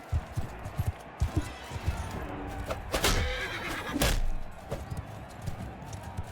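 A horse neighs in the medieval battle game Bannerlord, two loud whinnies cutting through combat noise of hoofbeats and thuds, while someone talks over the action.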